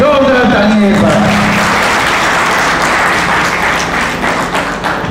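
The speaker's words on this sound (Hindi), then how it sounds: "तो हमारी भोपाल टीम के लिए जोरदार ताली एक बार" Audience at a community gathering clapping for the Bhopal team, loud, continuous applause filling the hall, with a voice briefly audible at the start before the clapping thins slightly toward the end.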